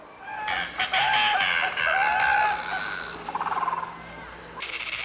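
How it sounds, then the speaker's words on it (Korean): Bird calls in a children's TV show, meant as storks, come as loud, close crowing and clucking cries, several overlapping in a rough sequence with a steady background hum. "저건 황새들이네. 황새가 뭐라고 하는지 잘 들어봐요."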